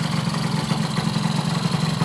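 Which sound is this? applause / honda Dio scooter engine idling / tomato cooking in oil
honda Dio scooter engine idling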